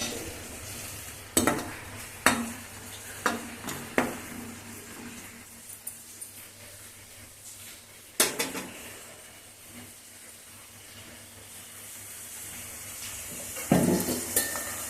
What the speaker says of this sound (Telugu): కొంచెం జీలకర్ర అలాగే కడిగి పెట్టుకుని కరివేపాకు రెమ్మలు రెండు వేసి మిక్స్ చేయాలి